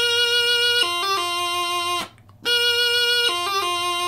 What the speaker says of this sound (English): Remember that the half doubling should take the same amount of time as a full doubling, so it should sound like this.